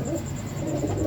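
Racing pigeons coo softly and steadily at a loft during a derby race, a brief, close, continuous murmur.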